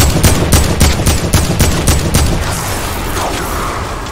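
Loud automatic gunfire from the Fortnite battle royale video game, a rapid burst of close shots in steady rhythm for about two seconds, then fading into a lower rumble.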